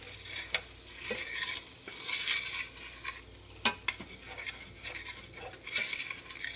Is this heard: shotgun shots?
no